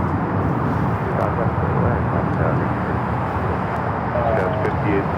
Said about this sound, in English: This is United Express 5860 taking off to Hayden on the E175.